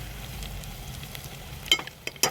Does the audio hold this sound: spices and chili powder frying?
yes